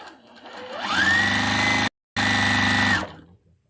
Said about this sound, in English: I'm gonna sew these really quick